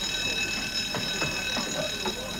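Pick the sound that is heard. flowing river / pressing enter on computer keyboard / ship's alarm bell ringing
ship's alarm bell ringing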